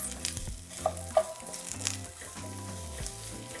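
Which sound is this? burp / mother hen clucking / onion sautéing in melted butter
onion sautéing in melted butter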